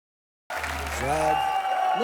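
After a moment of silence, applause rises from a TV entertainment show's audience, mixed with music tones and building in loudness.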